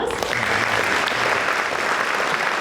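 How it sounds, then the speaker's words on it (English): Audience applause at a high school band and orchestra concert, a steady burst of loud clapping from a crowded hall throughout. "Please give them a round of applause."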